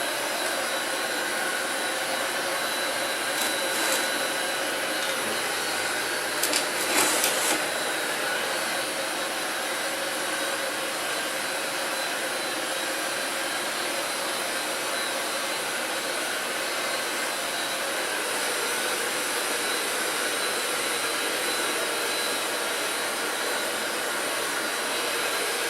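Heat gun blowing on the edge of a Mustang fender before rolling, a continuous airy whooshing roar that holds steady for over twenty seconds, with a few faint knocks early on.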